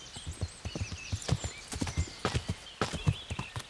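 Rhythmic clip-clop of horse hooves trotting in the video game Kingdom Come: Deliverance, close and steady, with a brief whinny.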